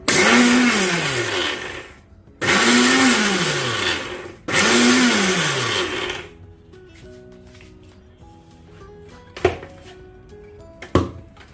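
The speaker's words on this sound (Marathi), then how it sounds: "मिक्सरला फिरून घेणार आहे ऑन ऑफ ऑन ऑफ करून घेणार आहे" A mixer grinder pulses niger seeds in three loud on-off bursts, each with a falling motor whine, followed by quieter clinks and a couple of sharp knocks.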